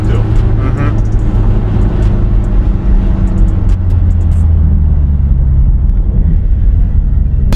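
A BMW X6M with a 4-litre V8 gives a steady deep engine rumble from inside the car, loud and continuous under light road and wind noise, with a few faint clicks in the first half.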